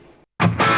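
A short burst of a dense, distorted electric guitar tone from a Line 6 Helix Stadium XL rig starts abruptly after a brief silence and rings loudly.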